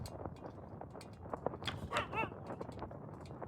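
Dogs in the Antarctic expedition survival game The Pale Beyond whimper and yip in short, faint bursts beneath a steady bed of game ambience, with a few higher whining calls near the middle.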